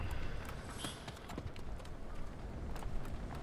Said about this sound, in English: I was just trying to call my horse.